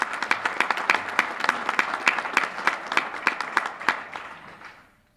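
An audience applauding after a mayor's speech to an education association, dense clapping from a crowd of listeners that holds steady for several seconds and then tapers off to silence.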